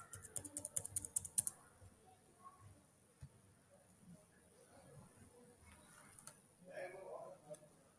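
Typing on a computer keyboard with a final press of the enter key, several quick, close clicks in a burst at the start, then quiet room noise and faint talk.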